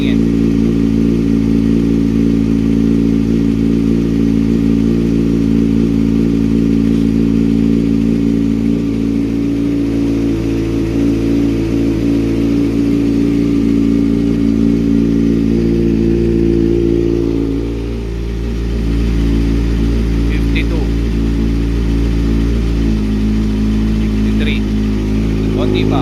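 Kawasaki Ninja ZX6R motorcycle engine idling steadily after a cold start, a constant low rumble with a brief dip near the end, close by and loud throughout.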